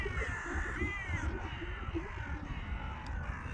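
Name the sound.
crows cawing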